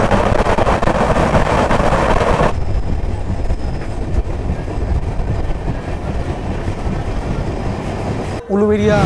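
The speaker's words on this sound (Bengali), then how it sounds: "সাঁতরাগাছি 3 নম্বর প্ল্যাটফর্ম থেকে ট্রেন ছেড়ে দিল।" Tamralipta Express pulling out of platform 3 at Santragachi, a loud continuous rumble and clickety-clack of wheels and carriages that drops slightly in tone after a few seconds, with a short squeal near the end.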